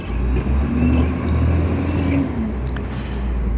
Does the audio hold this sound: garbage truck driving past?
yes